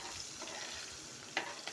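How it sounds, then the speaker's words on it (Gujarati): A spoon stirs finely chopped ajwain and green chilli in a pan of hot oil for okra curry. A steady soft sizzle runs throughout, with one brief scrape or clink near the end. "ચમચા વડે સાતળી લઈશું હવે આપણે એને."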